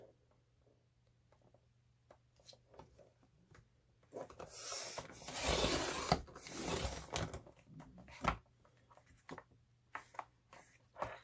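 Dry scraping and crunching of a blade cutting into layers of masterboard, starting with faint scratchy strokes, building to a few louder rasping passes in the middle, then trailing off into scattered soft ticks.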